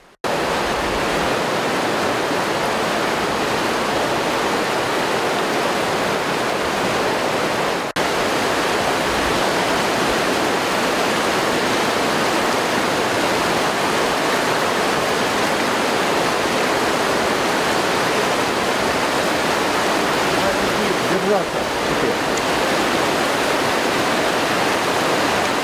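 Natural rapids on the Gladyshevka river rush in a dense, steady roar of water that stays loud and unbroken for the whole stretch, with no voices over it.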